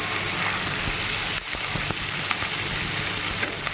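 Cauliflower pieces dropped into a hot pan, a broad steady hiss of frying with a brief dip and a few small crackles and taps, close and fairly loud.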